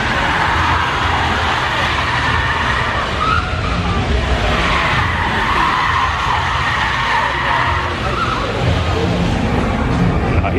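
Tires screech and skid in a long continuous squeal that rises and falls, loud and sustained, with engine noise rumbling underneath.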